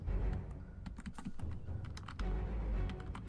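Rapid clattering of computer keyboard keys, a quick irregular run of sharp clicks pressed close up with a few louder strikes, no voices.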